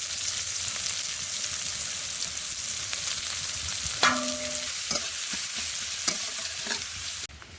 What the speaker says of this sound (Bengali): পেঁয়াজ রসুন শুকনো লঙ্কা একটু ভাজা ভাজা হয়ে গেছে